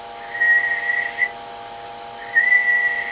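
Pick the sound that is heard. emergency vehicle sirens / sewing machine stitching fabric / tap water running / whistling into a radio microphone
whistling into a radio microphone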